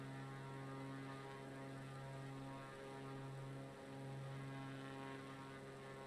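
Airplane engine droning steadily in flight on a video-game run over the Grand Canyon toward Vegas, a constant deep hum with layered tones, even and unbroken, no talking.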